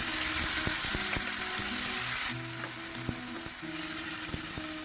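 Garlic and onion fry in hot oil, giving a bright, steady sizzle with a spatula clinking and scraping against the pan in irregular taps. The sizzle grows somewhat softer partway through.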